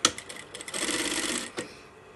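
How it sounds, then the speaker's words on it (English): A sewing machine runs a short burst stitching the seam of a scrub top, a steady close mechanical whir that starts after a few clicks and stops abruptly near the end. "So I'm sewing down to where I've made the nick."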